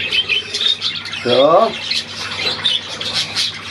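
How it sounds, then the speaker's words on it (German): A seagull lets out a single loud squawk of rising and falling cries partway through, over a steady background hum and someone talking nearby. "Da ist die Möwe"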